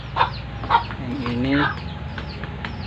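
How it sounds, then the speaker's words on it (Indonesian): Bangkok red jungle fowl hen, a native village berugo chicken, clucks in a few short close bursts. Another call rises in pitch near the middle, and a person talks briefly over it. "Ini apa ayam berugo Bangkok Red Jungle Fowl."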